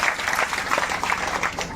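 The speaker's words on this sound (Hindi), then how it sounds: "एक बार जोरदार तालियां" An audience breaks into strong applause at a spiritual discourse, a steady, close burst of many hands clapping together, brief and evenly sustained.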